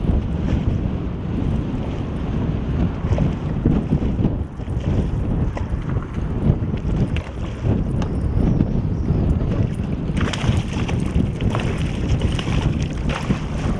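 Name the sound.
strong wind outdoors on a boat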